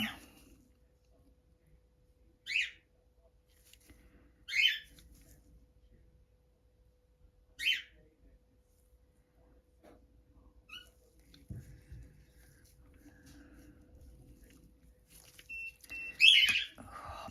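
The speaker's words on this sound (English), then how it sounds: "what is with these birds?" Birds scream in sharp, high bursts nearby: about four separate calls spaced a couple of seconds apart, then a louder tangled burst near the end, over quiet room background.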